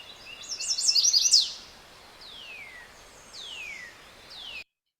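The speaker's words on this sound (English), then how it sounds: "we've got a chestnut-sided warbler." Chestnut-sided warbler song played from a bioacoustic field recording made in Conway, Massachusetts: a bright, rising and falling phrase of sweet notes, then a few clear downslurred whistles repeated at intervals over faint steady background hiss.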